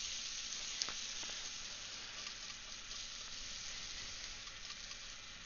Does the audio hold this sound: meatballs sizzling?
yes